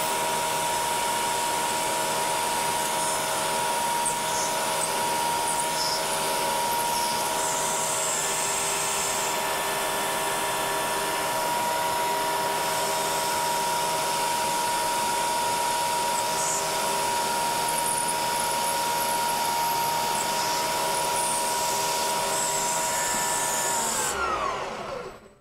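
A CNC Bridgeport mill peck-drills holes in sheet aluminum with a continuous steady whine of spindle and machinery, loud and unbroken, until it cuts off abruptly at the very end.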